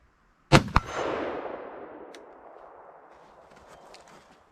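A Foxtrot Mike .223 Wylde rifle fires on a range: a sharp, loud crack followed quickly by a second report, then a long echoing decay with faint clicks afterward.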